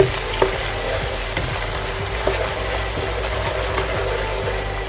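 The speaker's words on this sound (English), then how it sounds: "Fry this really well." Onion paste fries in a pan for a Mumbai-style chicken masala, giving a steady close sizzle with occasional soft pops and stirring scrapes.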